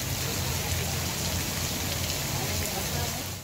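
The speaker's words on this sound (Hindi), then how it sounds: "सिंध के मुख्तलिफ शहरों में बादल बरस पड़े।" Heavy rain pours steadily across a town in Sindh, Pakistan, a dense, loud, even hiss of drops on surfaces with no break.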